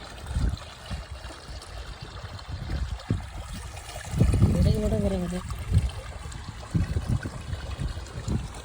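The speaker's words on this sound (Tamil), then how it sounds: "தண்ணி ஓடுறத பார்க்கறதே ஒரு அழகு" Water trickles and flows steadily in the background while a person talks over it, with rain-like patter mixed in.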